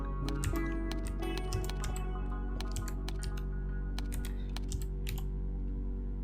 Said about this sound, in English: Thank God we can just type this out on my keyboard.